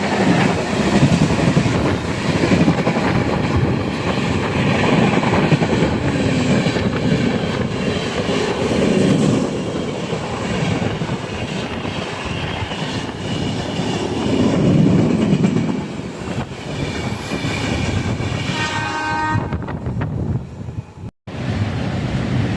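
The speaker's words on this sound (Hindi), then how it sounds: "चलो देखते हैं कौन सी ट्रेन का ओवरटेक है" A loud rumble and rushing clatter as a high-speed train overtakes alongside the Gondia Barauni Express, heard from inside a general-class coach, with wheels clicking and wind buffeting steadily before the roar eases and a sharp thump near the end.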